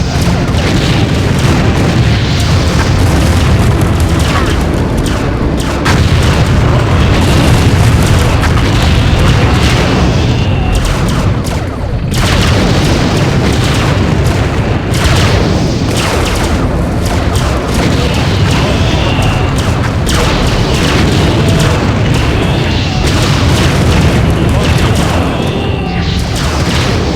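Continuous heavy booms and explosions roar as a fortress is destroyed in the PC strategy game Empire Earth, a dense, loud, unbroken barrage of blasts lasting throughout.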